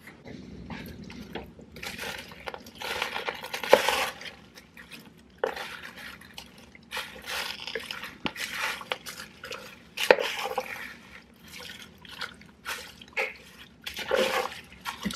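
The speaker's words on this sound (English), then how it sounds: "I'm gonna stir it around." Food stirred in a pot in a home kitchen, with irregular scraping and liquid sloshing that come in bursts, plus a few sharp clinks of a utensil against the metal, all close and fairly quiet with no speech.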